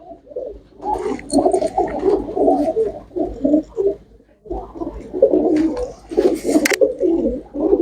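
Pigeons being shown for sale coo close by in repeated bubbling, throaty phrases with a short pause midway, loud and clear with no talk over them.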